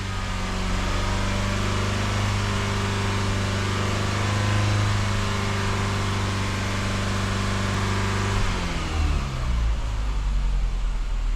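A Mazda CX-5 engine holds a steady high rev of about 3,000 rpm with a strong tonal drone. Near the end it drops and settles back toward idle, with no talk over it.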